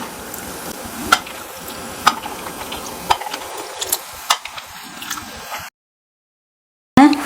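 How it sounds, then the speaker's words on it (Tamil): Bitter gourd being sautéed in a pan with softened onion and tomato: soft sizzling with scattered sharp clicks of stirring, then a brief silence and a sudden louder burst. "தக்காளி வந்து நல்லா வதங்கிருச்சு இப்போ நம்ம பாவக்காய் போட்டுடலாம்"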